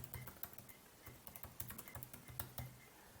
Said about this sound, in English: Here we can then type in our new project name.